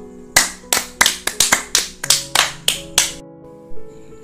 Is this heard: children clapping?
yes